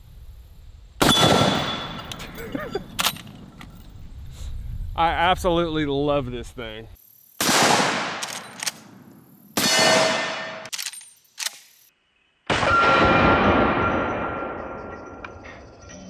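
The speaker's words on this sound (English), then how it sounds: "Let's try the little gong." Rifle bullets strike a small steel gong, giving several loud shot-and-clang impacts with ringing metallic tails spread over the clip, with someone talking between hits.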